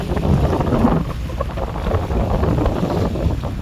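Large cargo ship passing on a river in Holland, a steady low rumble with water wash under constant wind buffeting on the microphone, no voices.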